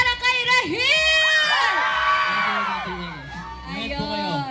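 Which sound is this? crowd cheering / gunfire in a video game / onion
crowd cheering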